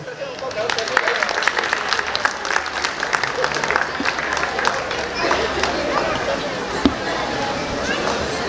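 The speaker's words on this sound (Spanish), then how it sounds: "les brindamos un fuerte aplauso" Wedding guests applaud the bride and groom on the dance floor, a lively crackle of clapping with sharp individual claps and crowd chatter mixed in, continuing for several seconds.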